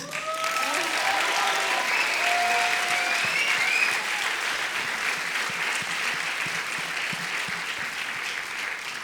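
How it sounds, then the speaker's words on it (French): Audience applause after a youth theatre play fills the room, dense and steady clapping from a crowd that swells early and slowly eases over about nine seconds, with no speech over it. "j'aimerais d'abord qu'on puisse s'applaudir."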